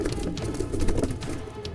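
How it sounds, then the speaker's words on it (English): Pigeons coo in a coop as a barn owl walks in and attacks the four birds inside; soft, repeated cooing close by, with scuffling throughout. "The barn owl in this video walks into a pigeon coop and attacks the 4 pigeons inside"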